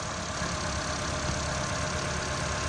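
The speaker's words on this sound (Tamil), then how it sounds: "அதே மிஸ்ஸிங் அப்படியே இருக்குது இன்ஜினில்." Ford EcoSport petrol engine idling with a misfire on one cylinder, a steady close-up rumble with an uneven, slightly knocking pulse running continuously and alone.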